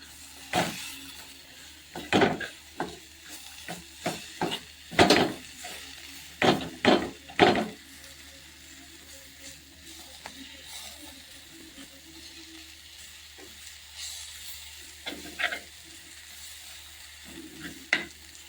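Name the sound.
sautéing tomatoes in masala for fish curry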